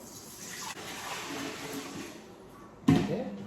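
Water pours from a container into a baker's mixing bowl as the first step of a baguette dough in a new bakery, a soft steady trickle that ends in a short splashing gush.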